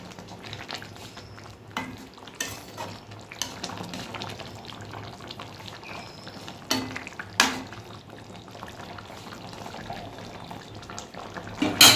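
Fish curry bubbling on the boil in a pot, with steady low simmering and occasional louder pops and stirring clatter, close and alone.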